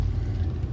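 A train passes near a backyard greenhouse, a loud, steady low rumble that fills the whole moment without letting up, with no one speaking over it.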